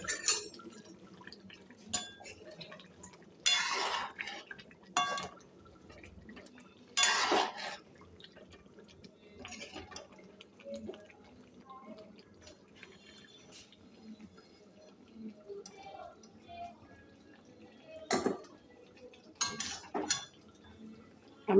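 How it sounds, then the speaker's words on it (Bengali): Afghani chicken being moved from one cooking pot into another, with sporadic metal spoon scrapes and clinks against the pots and a few sharper clatters, close and fairly quiet, no voices. "আফগানি চিকেন বানানো হয়ে গেছে, আমি এটা উঠিয়ে রাখছি অন্য পাত্রে।"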